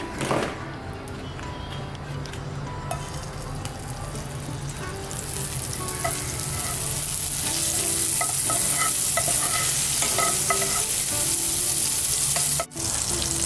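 Butter and vegetables sizzle in a pan while making pasta, a steady frying hiss that grows brighter and louder midway, with occasional stirring clinks and one sharp knock near the end.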